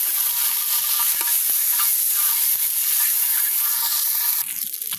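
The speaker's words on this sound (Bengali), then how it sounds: "এখন আমি প্রথমে একটা কড়াই দিয়ে এর ভিতরে ডিমগুলোকে একটু হালকা ভেজে নিব।" Eggs rubbed with turmeric fry lightly in a pan with little oil for a village-style egg curry, giving a steady close sizzle and hiss with occasional stirring scrapes, no voices.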